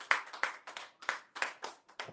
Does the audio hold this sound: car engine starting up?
no